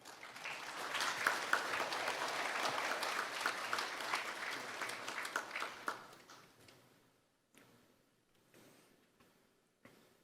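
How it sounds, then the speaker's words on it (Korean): Applause fills a university hall as the new president of Daegu Haany University is welcomed at his inauguration ceremony, a steady round of clapping that fades out over several seconds into scattered last claps. "큰 박수로 모시겠습니다"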